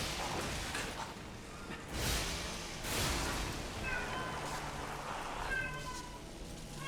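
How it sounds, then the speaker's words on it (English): A pet cat meows loudly in the background during a Lies of P gaming session, with several drawn-out cries rising over game sounds and low room noise. "You guys might hear my cat right now because sometimes she can be a little loud."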